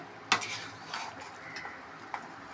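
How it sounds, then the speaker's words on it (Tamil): Besan (gram flour) roasting in ghee is stirred in a pan, a sharp spoon scrape against metal opening the sequence, then softer scraping strokes and a light clink over a quiet background. "அதுக்கு அடி பிடிக்காமல் கிண்டிகிட்டே இருக்கணும்"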